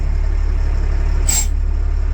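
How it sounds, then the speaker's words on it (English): An LMTV M1078 military truck idles loudly with a deep steady rumble, and a single short high hiss of its air brakes releasing cuts through midway. "Your air brakes are now off."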